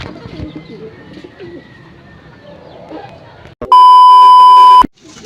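Pigeons coo softly in a loft, low murmuring calls under faint background noise, cut off partway by a loud, sustained electronic beep before the cooing resumes.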